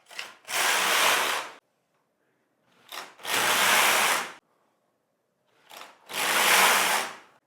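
A Singer Solo hand knitting machine knits ribbing rows as the carriage is pushed across three times, each pass a loud, even whooshing rattle of about a second, separated by short pauses and no talking.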